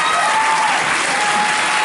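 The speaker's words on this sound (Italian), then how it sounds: "un applauso al presidente per favore" An audience in Lumezzane claps for the president at a concert event. The applause is loud, dense and continuous, with a crowd murmur underneath.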